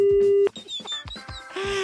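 A phone line tone after a hung-up call: a steady electronic tone, then short beeps and clicks, then the tone resumes, with a voice speaking briefly in between.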